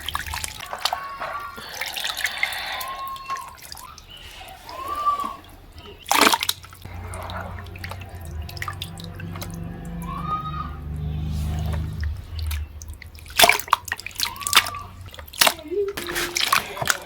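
Water sloshes and drips in a basin as tripe is washed, with splashes and trickles rising and falling across the stretch, occasional louder bursts, and someone talking over it at times.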